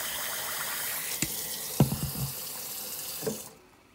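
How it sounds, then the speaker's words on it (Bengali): Tap water runs steadily into a pot of rice set to soak for chicken biryani, with a few soft knocks and splashes before the flow cuts off near the end. "এখন পানি দিয়ে এটা ভিজিয়ে রাখবো"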